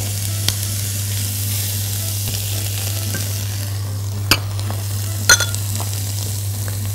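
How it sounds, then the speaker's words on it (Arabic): Vegetables sizzling and frying steadily in a pan while being stirred, with a few sharp clinks of a utensil against the pan, the broad hiss constant and close with no talking. "خلاص دلوقتي بقى هنزل بالصلصه بتاعتي"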